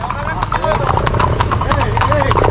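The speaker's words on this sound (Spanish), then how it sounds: "ahora vamos al caballo" Horse hooves clip-clop in a rapid, rhythmic beat at a Paso Fino trotting event in Mayagüez, Puerto Rico, close and loud, with voices and music underneath.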